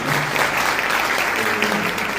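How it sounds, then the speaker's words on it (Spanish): Brief, lively applause for students at a Guarani language and culture homage event, a dense, even patter of clapping hands that holds steady from start to finish. "un aplauso para ellos también"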